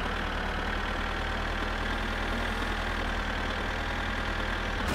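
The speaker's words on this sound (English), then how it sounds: "Hang on, the tractor's super loud." A tractor engine idles steadily and loudly in the driving game My Summer Car, a constant low mechanical drone with a fine rhythmic knock, up close and alone.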